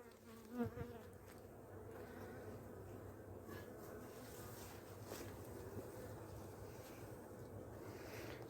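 Honeybees clustered in a ball inside their hive during oxalic acid varroa treatment give a faint, steady buzzing hum that continues unbroken, with a soft rustle and no talking.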